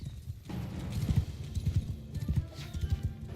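Horse hooves clip-clopping in a strategy video game, a steady run of close, loud hoofbeats with a faint whinny in the mix, heard alone without talk.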